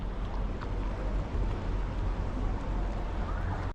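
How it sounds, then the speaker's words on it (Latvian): A small ship's engine drones steadily in the Gdańsk harbour, a continuous low rumble mixed with broad wind-like noise that holds at an even level throughout. "Maziņš sīkumiņš kuģu motors."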